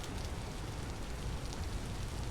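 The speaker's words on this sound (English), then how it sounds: "we gotta figure out a way to get away from the rain" Rain falls steadily in the Vintage Story video game, a dense and even hiss with low rumbling spread across the whole stretch, with no talking over it.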